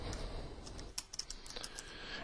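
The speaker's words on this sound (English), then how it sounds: "You can then immediately begin typing." Computer keyboard keys clatter in a short burst of typing while data is entered into an Excel spreadsheet cell, with quick, close, soft clicks in an uneven rhythm over faint background hiss.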